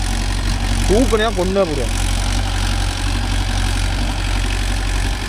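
Mahindra Yuvo Tech Plus 585 4x4 tractor engine running steadily while pulling a 5-tine cultivator through a rice field, a continuous low diesel drone close by, with someone speaking over it briefly.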